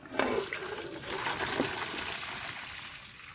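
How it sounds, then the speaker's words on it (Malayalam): Water from boiled squid is poured off, a continuous splashing trickle at moderate volume, running steadily to the end with no talk. "കൂന്തൾ ബോയിൽ ചെയ്ത് കഴിഞ്ഞിട്ട് വെള്ളം കളഞ്ഞെടുക്കാം"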